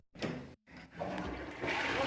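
A tap in a pizzeria restroom is turned on and water runs into the sink with a steady rushing splash, briefly interrupted early on, then growing louder; a voice speaks over it.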